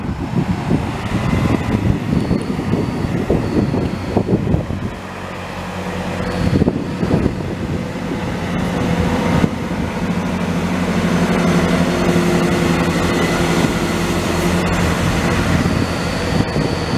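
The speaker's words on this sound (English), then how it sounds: "Doors are closed and 165019 is now getting ready to depart on the 1423 Chiltern Railways service from London Marylebone to High Wycombe." Chiltern Railways class 165 diesel multiple unit departing Denham station on a Marylebone to High Wycombe service, a steady low engine drone building after a brief lull and holding loud and close.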